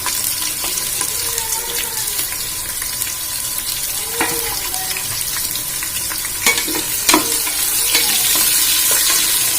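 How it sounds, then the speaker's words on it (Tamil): Onions sautéing in hot oil for Nellai-style mutton dum biryani, a steady close sizzle with occasional spoon scrapes and clinks against the pan, no talking. "வெங்காயம் நல்லா வதங்கட்டும்"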